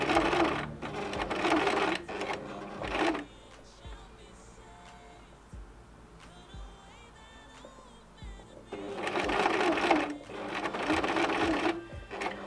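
A sewing machine stitches fabric in two loud bursts of rapid mechanical whirring, one at the start and one near the end, with a quieter stretch of light handling noises between them.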